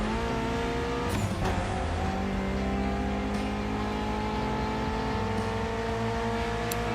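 A Mitsubishi inline four-cylinder of about 280 horsepower in a racing video game, holding a steady droning engine note with layered harmonics and small shifts in pitch throughout, no talk.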